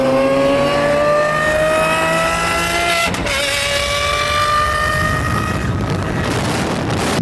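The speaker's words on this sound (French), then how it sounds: "Qui font des gros passages de vitesse à 9000 tours par minute." A Lamborghini SVJ engine revs hard at high rpm, its rising note broken by a sharp gear shift midway, loud and close with wind noise and no talk.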